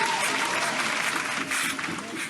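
A crowd claps warmly and steadily for a couple of seconds, the applause filling the room evenly before it tapers slightly.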